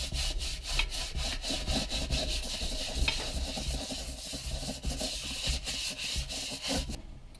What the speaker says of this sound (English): I'm gonna give this a good scrubbing to make sure I get all the grease off.